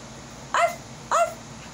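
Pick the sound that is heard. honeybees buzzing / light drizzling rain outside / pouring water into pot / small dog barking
small dog barking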